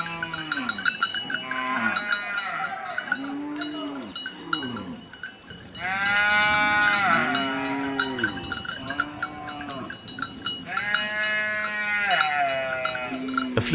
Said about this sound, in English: the animals are again driven to the grazing ground